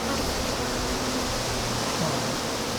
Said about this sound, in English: So you have plenty of bees at the moment.